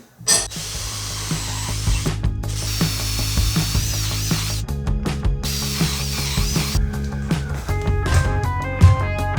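A power drill with a large bit whirs steadily while boring dowel holes, with clicking, ratcheting mechanical noises and shifting pitch as the bit works through wood.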